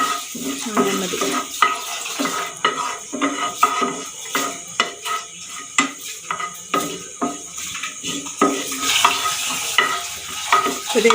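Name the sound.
cashew nuts frying in hot ghee, stirred in pan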